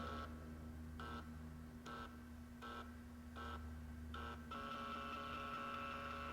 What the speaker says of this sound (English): Here goes the printer.